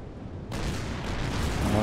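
A battleship fires in the WW2 strategy video game Order of Battle, producing a sudden deep boom that rolls into a sustained, rumbling blast lasting over a second.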